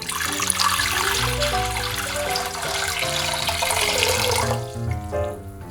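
Pork being rinsed under a running kitchen tap while preparing Korean gamjatang pork bone soup, a loud close splashing water stream that holds steady before easing off near the end.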